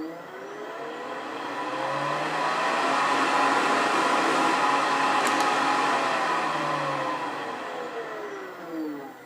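A motorized buffing wheel loaded with white diamond compound spins steadily for wood polishing, a continuous whirring hum with a faint whine that holds level throughout and eases slightly at the end.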